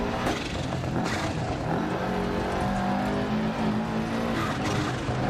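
Rally car engine in Dirt Rally 2.0 on an Australian stage, loud continuous droning and revving with shifting pitch as it changes gears, with gravelly road noise underneath and no talk.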